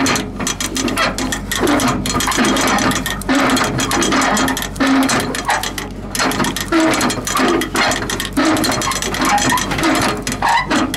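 A hand ratchet cranks steadily during truck work, a rapid run of loud metallic clicks in repeated bursts with brief pauses between strokes.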